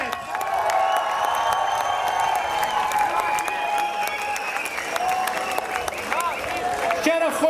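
Festival audience applauds and cheers a band at an outdoor Ukrainian Days festival, a steady, dense wash of clapping with whoops and shouted voices over it, holding loud throughout.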